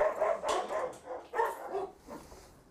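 A young male Malinois dog barks repeatedly in a close, loud series of sharp barks, with a few softer yips near the end.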